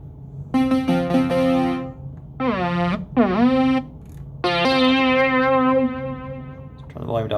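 Deluge synthesizer playing bright buzzy chords with a delay effect, several sustained chord stabs with gaps between them and echoing tails that ring out, loud and close, with no talking over them.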